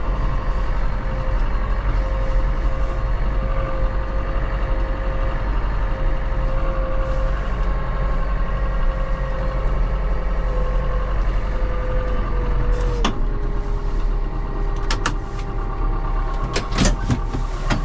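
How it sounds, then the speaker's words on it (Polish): A John Deere tractor engine warming up at idle outside a workshop, a steady loud diesel rumble with a whining tone that drops in pitch partway through, a few sharp knocks near the end, no talk. "Niech sobie pochodzi, rozgrzewa się na wolnych obrotach"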